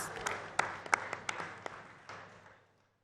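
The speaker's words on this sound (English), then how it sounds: "I want all shareholders to give you a round of applause for this achievement" Shareholders at a company's annual general meeting give brief applause in a large room, a handful of sharp distinct claps over a softer patter that fades out within a few seconds.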